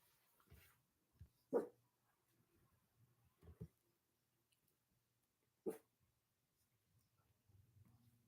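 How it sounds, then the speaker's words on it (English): A dog indoors lets out a few scattered, sharp barks and yelps at close range, short isolated bursts amid a quiet room with faint shuffling. "Sorry about the barking."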